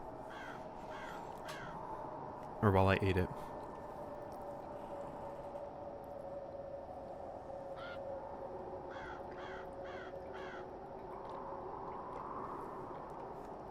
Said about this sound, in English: I got to listen to the crows talk while I did it